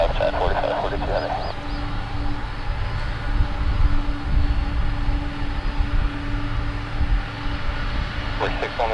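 A Boeing 747 Dreamlifter, a heavy jet, roars on the runway at takeoff from Paine Field, a sustained loud engine rumble with radio chatter over it.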